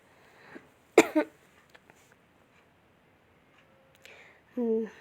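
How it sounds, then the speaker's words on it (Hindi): A sharp double cough bursts out near the mic, then quiet with small clicks, followed by a brief throat-clearing sound and a short voiced noise. "मुझे खांसी आ रही है, इसीलिए बीच बीच में खांसी आ जा रही है।"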